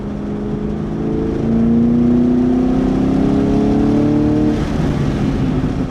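A 2023 Camaro SS 1LE accelerating hard on a race track, its engine note climbing steadily through the revs, loud and close with no voices.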